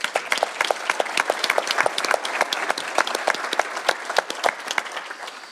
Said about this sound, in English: let's acknowledge them with a round of applause